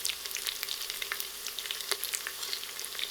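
Curry leaves and thyme sizzling in hot oil for a mutton curry, a steady crackling fry with dense, quiet pops throughout.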